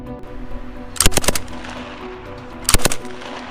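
Sten Gun Mark II submachine gun, a Second World War weapon, firing two short bursts of rapid, loud shots, about a second and a half apart, with no talk.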